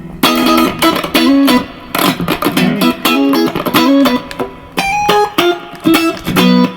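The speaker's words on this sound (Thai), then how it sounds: "เป็นเสียงคลินจากตัวมัน" A Squier electric guitar plays clean through an amp with effects removed, giving a close, bright phrase of plucked notes and ringing chords with short gaps between strums.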